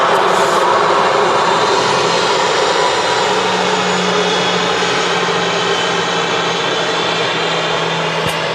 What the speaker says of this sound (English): That EasyJet in from Jersey